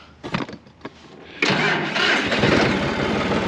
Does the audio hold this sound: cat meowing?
no